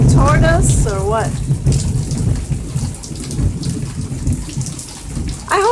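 Low thunder rumbling through a central Florida thunderstorm after a hurricane, heard continuously with steady rain, a rolling distant rumble that swells and fades; a person's voice briefly appears at the start and end.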